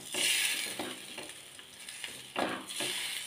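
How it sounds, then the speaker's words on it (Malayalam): Chilli fish curry with mango pieces bubbling hard in a pot, a steady sizzling hiss that swells and eases in irregular surges, close and fairly loud with no voices. "രണ്ടേ കറി നന്നായിട്ട് തിളയ്ക്കുന്നു"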